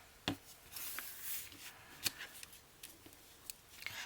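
Excess paper being trimmed from a folded card corner, a few faint snips and soft rubbing sounds, close and quiet.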